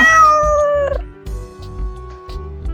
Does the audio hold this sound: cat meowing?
yes